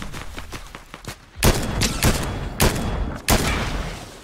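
Gunfire in the Fortnite video game: a rapid burst of small shots followed by several loud, sharp gunshot bursts spaced about half a second to a second apart, close and punchy, with no talk.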